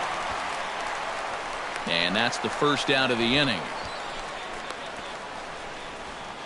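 A baseball video game crowd lets out a rising ooh and ah as a fly ball carries to left field, swelling for a couple of seconds and fading, under a commentator's voice.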